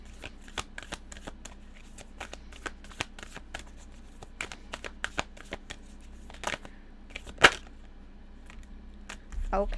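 Moonology Oracle cards being shuffled by hand: a close, quiet run of crisp flicking and riffling snaps, irregular and quick, with a sharper slap near the end and no voices.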